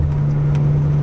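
Steady low drone of a BMW M3 engine heard from inside the car, a constant loud hum with faint higher rattles, no revving swell.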